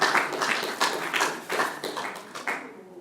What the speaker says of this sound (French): On applaudit les seigneurs.